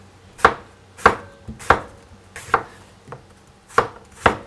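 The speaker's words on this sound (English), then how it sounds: "I'm just gonna slice these apples and keep them in nice," Knife cutting apples into big slices on a board, seven crisp, evenly spaced chops close up with no talking.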